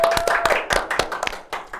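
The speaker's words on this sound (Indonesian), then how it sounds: "Oke, tepuk tangan semuanya." A small group claps loudly and close by, a brisk run of individual hand claps in quick uneven rhythm, tapering off after under two seconds.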